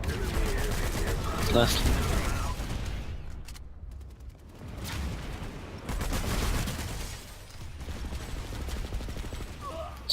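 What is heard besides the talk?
shotgun gunfire from a video game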